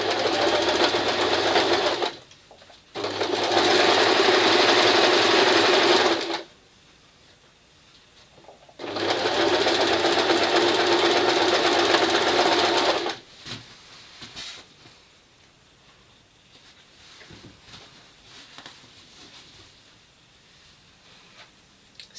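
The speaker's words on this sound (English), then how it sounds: "So I'll just carry on chain stitching these." A sewing machine chain-stitches patchwork curtain panels in two long, steady, loud runs of fast whirring, each a few seconds long, separated by quieter pauses, and then it falls silent.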